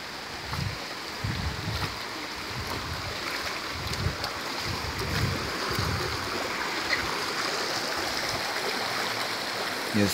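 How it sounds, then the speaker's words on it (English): Mineral spring water flows steadily at Bath Fountain in Jamaica, a continuous close rushing and splashing with no talk over it. "Now you are at the actual fountain."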